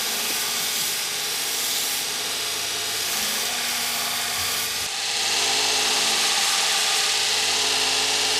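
A belt grinder with a coarse 40 grit belt shaping a knife blade, a loud continuous hissing grind with a brief dip near the middle before resuming, steady and close with no talk.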